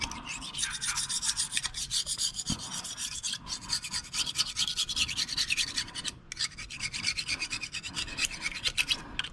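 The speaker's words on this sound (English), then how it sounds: "So we're just gonna continue to scrape," A scraper rasps steadily across a small-block Chevy cylinder head, a close, continuous stroke-by-stroke scratching with brief pauses, no voices.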